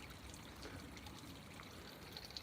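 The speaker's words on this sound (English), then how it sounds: "if it's not raining, it just drips like that" A small waterfall on an outdoor walk, not fed by rain, dripping and trickling softly and steadily, faint and close, with no voices.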